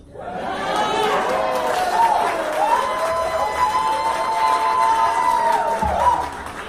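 A crowd at a business roundtable holiday awards reception cheers and claps, a loud, steady wash of voices and applause running through the whole stretch before easing at the end.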